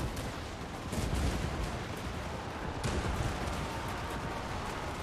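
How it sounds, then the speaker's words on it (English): Thunderer handgunners in a Total War battle let off a volley, a dense crackling burst of gunfire that swells around the one-second mark and again near three seconds, steady and loud throughout with a rumbling low end. "Just one volley is enough."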